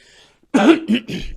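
A single person coughs close to the microphone, a few harsh bursts after a brief quiet lead-in, with no talking during the coughing.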